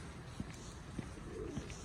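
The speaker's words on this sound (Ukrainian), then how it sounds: "А, голуби гучні" Soft, low pigeon coos repeat a few times against a quiet background hum during an early morning walk at 6 a.m., faint and somewhat distant.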